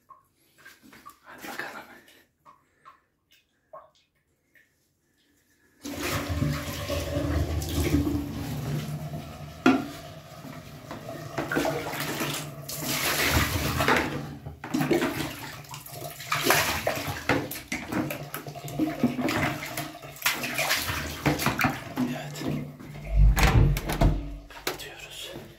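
Liquid is poured down a clogged toilet sink drain, first as quiet scattered drips and then as a sustained splashing gush with gurgling surges that lasts to the end. A voice speaks faintly at times.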